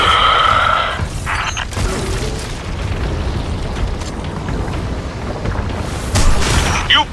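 A shield breaking on a Shadow Legion light extractor in the video game Destiny 2: The Final Shape, heard as loud booming bursts and crunching mechanical impacts over a dense, sustained rumble lasting several seconds.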